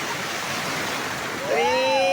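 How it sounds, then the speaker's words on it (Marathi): A steady broadband roar of sea waves washes continuously on the beach at Ganpatipule. Near the end a person's voice rises briefly over the surf. "गणपतीपुळे गणपतीपुळ्याचा हा समुद्र आहे"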